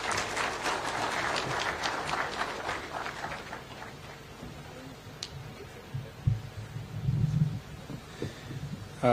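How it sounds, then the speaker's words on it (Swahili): An audience at KICC in Nairobi, at a national road safety event, claps in a dense burst of applause that fades out after a few seconds, leaving low room hum and a few thumps. "Tumpigie makofi, tafadhali."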